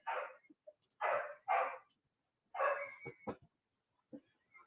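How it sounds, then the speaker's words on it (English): A dog barks in several short bursts with brief pauses, then gives softer whimpers and yips, heard close and loud with no talk over it. "Oh, somebody feed the dog."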